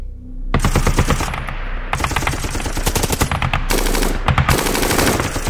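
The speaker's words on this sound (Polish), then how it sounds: "Pistolety maszynowe, zwykłe karabiny." Heavy machine gun and rifle fire in a battle, rapid bursts of shots crackling loud and close, broken by short pauses before new volleys erupt.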